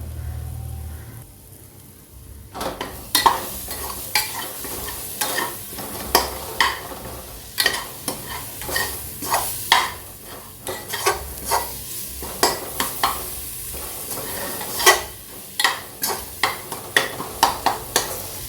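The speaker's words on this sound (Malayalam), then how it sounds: "ഇനി നമുക്ക് തക്കാളി നല്ലതുപോലെ അങ്ങോട്ട് ഉടച്ച് കൊടുക്കാം" Repeated wet scraping and squishing of a spoon mashing soft cooked tomatoes in a pot for Kerala-style tapioca biryani, irregular strokes over a faint sizzle, close and fairly loud.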